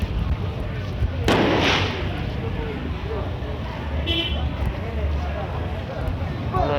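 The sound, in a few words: fireworks exploding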